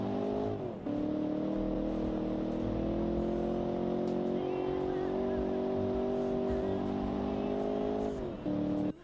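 A virtual car engine in the BeamNG driving game, sounding like an LS V8 swapped into a BMW, holds a steady loud droning note for most of the run, with a brief dip near the start and end; people talk over it.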